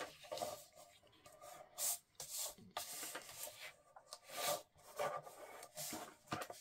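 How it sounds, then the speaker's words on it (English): Crisp paper being creased and rubbed flat along score lines while assembling an Echo Park Bee Happy interactive album, a run of close, uneven rasping swipes with no talk. "fold on your score lines"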